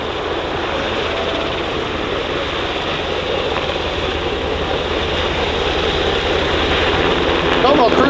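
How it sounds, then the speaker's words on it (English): A US Coast Guard MH-60 Jayhawk helicopter flies past at an airshow search-and-rescue demonstration in London. Its steady, loud rotor and engine roar runs unbroken throughout. "Normal cruising speed of the Jayhawk, thus again the helicopter to our right, is about 135 to 140 knots"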